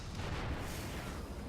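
Siege tanks firing in a StarCraft match amid massed bio units and sieging liberators, a dense booming barrage of low rumbling blasts that fills the short stretch without a break.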